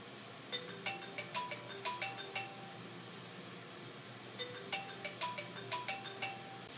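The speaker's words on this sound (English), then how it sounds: "Whose phone is going off?" A phone ringtone plays a bright, chiming melody of repeated tinkling notes, sounding twice in two short bursts with a pause between, moderately close and alone.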